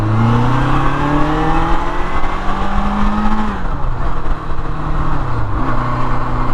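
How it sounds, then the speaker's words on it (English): A 1979 Kawasaki KZ650SR motorcycle engine pulls hard under acceleration, a loud, close, continuous buzzing roar whose pitch climbs steadily through each gear, drops briefly at the shifts and rises again. "I love how this bike sounds."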